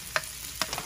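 Onion, green pepper and tomato sautéing in a pan, a soft steady sizzle broken by a few sharp scraping stirs of the utensil, close and fairly quiet, with no talking.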